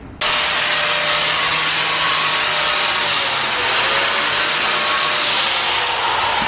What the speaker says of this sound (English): Grinding all the paint off.